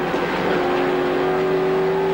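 Touring cars race at Phillip Island in the 1996 Australian Touring Car Championship, with Glenn's car on the throttle behind the Perkins car: a loud, steady, high engine drone held at speed.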